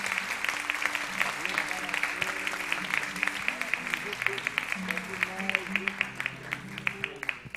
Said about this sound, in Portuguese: Pode aplaudir ao Senhor pela vida deles.